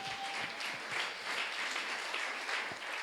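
A church congregation applauding, a dense, continuous patter of many hands clapping at moderate volume throughout, with no talk over it.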